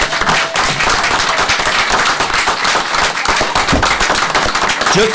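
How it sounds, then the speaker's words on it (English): Borough council meeting audience applauds the Girl Scouts, a loud, dense and continuous wash of clapping filling the room for several seconds, with a few voices faintly underneath. "So the girls deserve a big round of applause for what they did"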